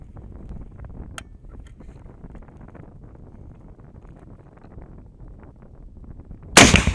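An RPG rocket launcher fires outdoors, a single loud broadband back blast bursting out near the end after several seconds of steady wind rumble against the microphone.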